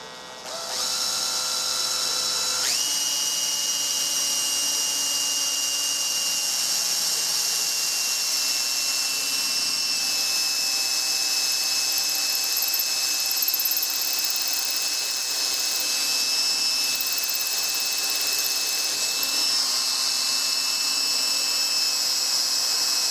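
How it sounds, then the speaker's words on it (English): A power drill bores a hole through a wooden Mauser rifle stock with a steady, loud, high whine that runs continuously, close by and alone. "I have to drill a hole on the backside."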